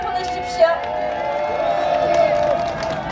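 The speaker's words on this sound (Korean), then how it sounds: "큰 박수 보내주십시오." A political rally crowd cheers and claps for a law professor taking the stage, a broad, steady roar with tonal whoops running through it.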